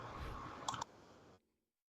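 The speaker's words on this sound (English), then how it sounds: "I've never heard so many mouse clicks." Rapid computer mouse clicks from a streamer at his desk, a steady clatter with a couple of sharper, louder clicks near the middle, close and dry, ending abruptly into silence.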